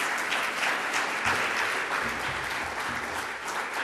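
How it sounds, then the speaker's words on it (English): An audience at a science scholarship announcement claps steadily, a dense, even applause that continues for the whole stretch without a break and with no voices over it. "You can applaud."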